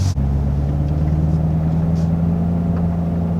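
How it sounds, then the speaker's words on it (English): A Corvette's exhaust with its valves open drones loudly and close, a deep, steady rumble and low throaty hum holding constant with no talking. "I can hear that those valves are open"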